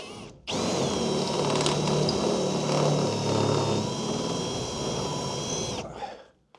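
A power drill bores out stainless steel pop rivets on a horse trailer under renovation, a loud, close, continuous whining grind lasting about five seconds before the motor cuts off abruptly.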